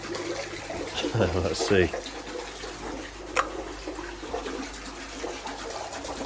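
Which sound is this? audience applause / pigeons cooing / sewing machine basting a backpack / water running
water running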